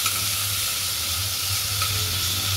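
Ginger paste stirred and fried in a pan for a quick mung dal, a close, steady sizzle under a continuous low hum, no voices.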